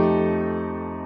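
A three-note shell voicing with an added ninth, played as a single piano chord that rings out clearly on its own and slowly fades.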